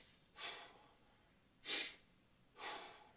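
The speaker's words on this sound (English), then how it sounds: "this kind of breathing, sometimes we call that shallow breathing" A person demonstrates shallow breathing with three short, airy breaths at a slow, even pace, close and quiet, with no other sound.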